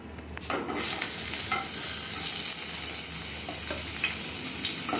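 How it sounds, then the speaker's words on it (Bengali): Pieces of snakehead fish hit hot mustard oil in a wok, setting off a loud, dense sizzle that stays steady and close after a brief quieter start. "একে একে শোল মাছের টুকরোগুলো কড়াইয়ের মধ্যে দিয়ে দিচ্ছে"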